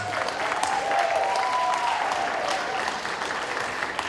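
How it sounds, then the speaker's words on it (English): A wedding reception crowd gives another round of applause, dense and fairly loud clapping that stays steady for several seconds, with faint whoops or voices mixed into it. "how about another round of applause?"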